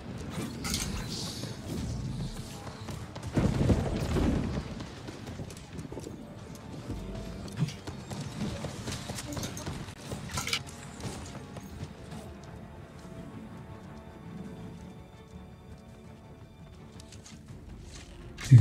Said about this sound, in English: He's got the horse out.